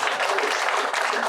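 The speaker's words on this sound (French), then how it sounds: "Je crois qu'on peut l'applaudir de nouveau." An audience applauds again after a talk on art therapy in a psychiatric setting, a steady, dense burst of clapping heard close and fairly loud throughout the short moment.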